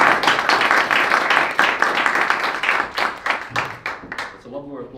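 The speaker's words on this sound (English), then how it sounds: "It's a lot more applause than I usually get" An audience at a data festival opening ceremony breaks into sustained, dense applause, loud and steady for several seconds before thinning out into scattered claps as a voice begins speaking.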